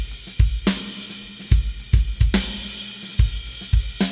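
A drum groove with a punchy snare and kick sent into a simulated Capitol Studios reverb chamber, each hit close and loud with a lingering roomy tail, no voices.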